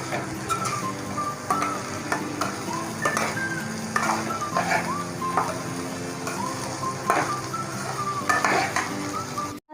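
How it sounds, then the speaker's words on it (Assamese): Chowmein with cabbage fries in a wok, a loud, steady sizzle broken by repeated scraping and clanking stirs of a utensil against the metal, with no voices. "এতিয়া মই এই কবিখিনিৰ লগত এইখিনি আকৌ অকণমান ভাজিম"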